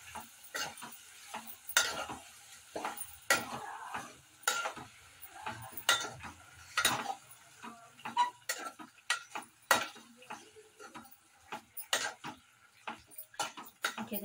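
Marinated mutton coated in ginger-garlic paste frying in hot oil for a curry, with crisp sizzling bursts and repeated scraping stirs of a utensil against the pan, close and alone.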